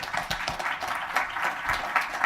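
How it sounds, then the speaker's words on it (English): Brief, faint round of audience clapping at a tech conference talk, a scattered patter of hands lasting a couple of seconds. "let's give Doug a round of applause"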